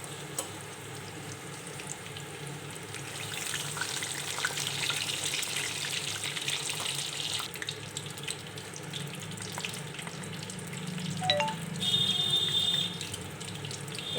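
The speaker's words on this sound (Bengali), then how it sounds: "বড়াগুলো ভেজে নেব।" Pumpkin flower fritters in batter fry in moderately hot oil, giving a soft, steady sizzle and crackle that stays fairly quiet throughout, with a few faint clinks near the end.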